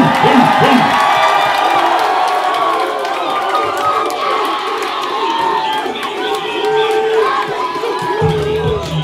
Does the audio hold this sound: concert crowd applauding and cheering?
yes